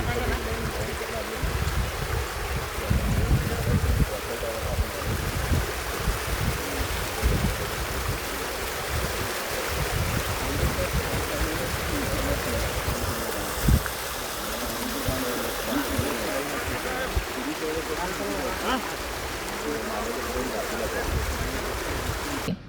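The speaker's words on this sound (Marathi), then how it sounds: "ब्रिटिशकालीन पाईपलाईनला मोठे भगदार पडल्याने स्वच्छ पाणी थेट नाल्यात मिसळत असल्याचे धक्कादायक वास्तव समोर आले आहे" Water gushing from a large break in an old British-era pipeline, clean supply water pouring straight into a drain; a steady, loud rushing flow that continues throughout with no pause.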